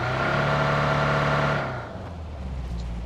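A vehicle engine in the BGMI game on the Erangel map drones with a steady loud hum that fades and drops to a lower, quieter rumble partway through, with no talking.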